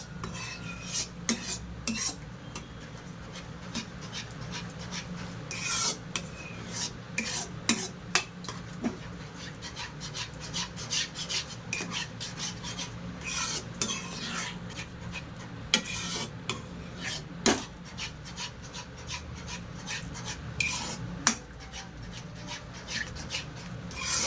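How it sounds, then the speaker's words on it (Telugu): A ladle scrapes and stirs thickening Bombay Karachi halwa in a pan, giving soft repeated rubbing strokes with sharper scrapes, steady and close, with no talk. "ఇలా గరిటతో తిప్పుకుంటూనే ఉండాలండి"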